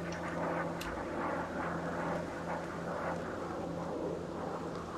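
Drones fly overhead in the video game Ghost Recon Breakpoint, giving a steady, dense droning hum with a low tonal whine, constant and fairly loud throughout.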